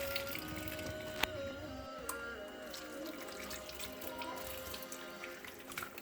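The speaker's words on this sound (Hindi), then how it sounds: "अब थोड़ी देर में इनसे पानी में डिप करूँगी, उसके बाद दोबारा से धोऊंगी" Vegetables being rinsed in a kitchen sink under a running tap, a steady close wash of water with soft splashing and a few sharp clinks, continuous throughout with no talking.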